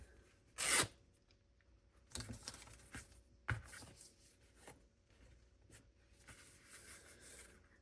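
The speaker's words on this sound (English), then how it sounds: "rip this too." Paper torn by hand for a junk journal, heard as one loud, sharp rip followed by several quieter, shorter tearing and rustling bursts, close up with no talking.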